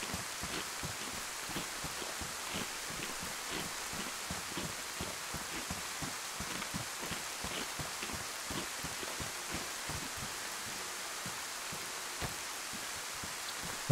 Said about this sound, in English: pouring rain, and a thunderstorm